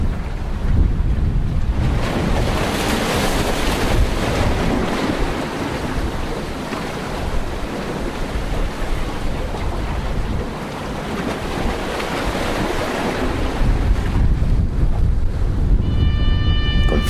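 Strong wind roaring steadily by the sea at Charleston Harbor, South Carolina, with waves and buffeting gusts filling the scene loud and unbroken, no voices.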